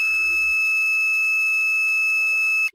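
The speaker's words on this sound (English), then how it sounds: "the buzzer is activated." A loud, steady high-pitched electronic buzzer tone from an Arduino PIR-sensor security alarm sounds continuously for a few seconds, then cuts off abruptly.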